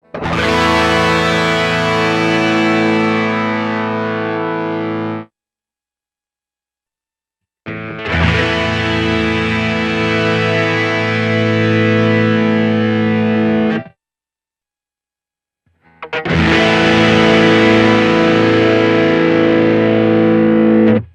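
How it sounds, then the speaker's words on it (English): Guitar synth Hex Fuzz distortion from a Roland VG-99 and Boss GP-10 driven by a Godin-style guitar with a Roland GK2 pickup: three long, heavily squashed fuzzy chords, each ringing several seconds and separated by silence. "if you're looking for that sort of very squashed Hex Fuzz sound, these units definitely deliver"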